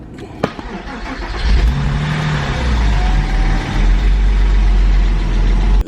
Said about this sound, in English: This is what happened when I started the engine.